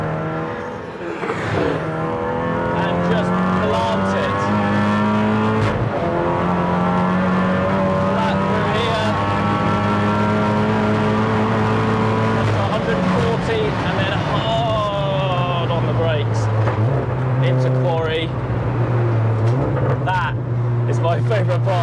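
A Volkswagen Golf R race car engine roars continuously at high revs on a track day, pitch climbing through gears and dropping on downshifts into fourth and third, loud and close throughout.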